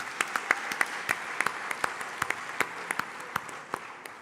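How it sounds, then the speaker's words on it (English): An audience applauds steadily, a dense patter of clapping with a few sharper individual claps standing out. "Please give him a round of applause."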